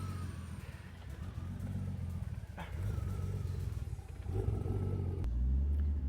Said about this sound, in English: It's trying to idle on its own, boys.